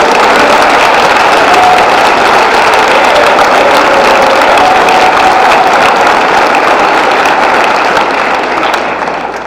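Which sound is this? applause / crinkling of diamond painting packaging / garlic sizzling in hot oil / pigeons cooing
applause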